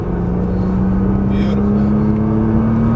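A car on a track powers out of a corner at full throttle, its engine note climbing steadily as a loud, close drone under a person talking.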